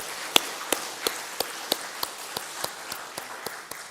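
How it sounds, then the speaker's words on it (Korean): A church congregation claps in a slow, steady beat, each clap distinct and evenly spaced, about a dozen in a row, fairly close and crisp against a quiet hall. "우리 박수로 격려 한번 해주시기 바랍니다"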